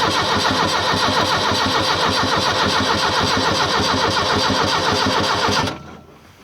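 Diesel engine on an excavator being cranked over, a loud steady rhythmic chugging that runs for several seconds, then cuts off abruptly and falls to quiet.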